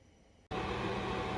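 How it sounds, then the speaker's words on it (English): Kitchen exhaust fan switching on mid-clip and running as a loud, steady broadband whoosh after a brief near-silence, while broth heats on the stove. "I apologize for the noise from the exhaust fan"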